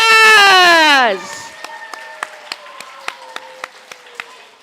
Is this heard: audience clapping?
yes